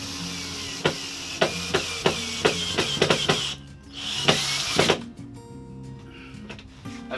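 A power drill's clutch clicks in a steady series of sharp ratcheting taps up close while tightening a push-fit plumbing fitting, then briefly whirs before stopping.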